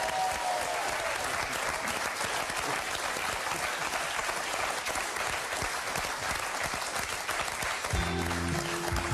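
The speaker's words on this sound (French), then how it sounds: "Je vous propose d'applaudir très fort Jean-Michel à moitié." Sustained applause from a large audience, steady and dense throughout, with a brief musical tone at the very end.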